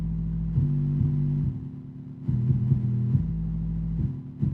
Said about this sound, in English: I just took this bass line, copied and pasted it over into my 808